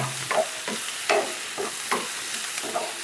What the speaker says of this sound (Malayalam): ഇനി നമുക്ക് ഈ തക്കാളി ഇതിൻ്റെ അകത്തേക്ക് ഇട്ട് കൊടുക്കാം തക്കാളി കൂടി വാടണം കേട്ടോ